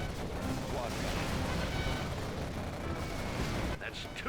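Quad cannon firing in Command & Conquer Generals, a dense, continuous roar of rapid gunfire and explosions filling the whole clip at loud, steady level before briefly easing near the end.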